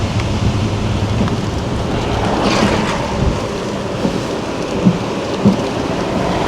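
Heavy hurricane rain and wind from Hurricane Melissa lash a coastal area of Jamaica in a dense, continuous roar, with low rumbling gusts and a few sharp knocks toward the end.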